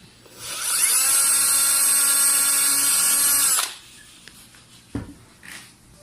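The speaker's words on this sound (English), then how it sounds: "It's a 3/32 drill bit." Power drill spinning a 3/32 drill bit while cutting a flush pull into a double hung window, a loud high-pitched whine lasting about three seconds before stopping, followed by a sharp knock and faint handling noises.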